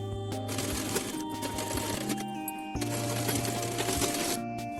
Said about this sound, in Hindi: अब इसको पलट करके एक सिलाई ऊपर से चलाऊंगी